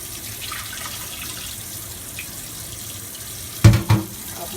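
A cold tap runs steadily into a bowl nearby, a continuous rushing stream, then two sharp knocks or clunks near the end.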